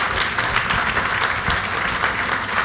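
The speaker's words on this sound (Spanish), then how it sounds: "un aplauso a nuestra lectora" A live audience at a Mexican political-cartoon discussion event bursts into steady, dense applause, a continuous roar of many hands clapping close by, sustained throughout with no gaps.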